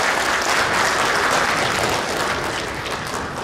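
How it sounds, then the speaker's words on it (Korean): A large audience claps at a university award ceremony during a Gaya culture exchange event. The thick, even applause holds steady throughout the clip with no voices over it. "여러분 큰 박수 부탁드릴게요"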